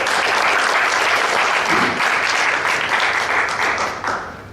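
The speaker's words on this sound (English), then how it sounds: "Give yourself a big applause." Audience applause fills a business commission-plan presentation in Malaysia: a dense, steady wash of many hands clapping that holds strong for about four seconds, then tapers off.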